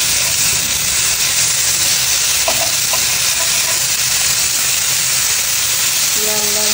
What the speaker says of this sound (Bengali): এই পাশটাও ভাজা ভাজা করে নেব, এই পাশটা একটু উল্টে দিচ্ছি।